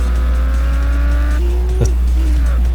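Race car engines in the racing video game Race Driver: Grid roar loudly at high revs, with a downshift and a brief tire squeal as the pitch falls.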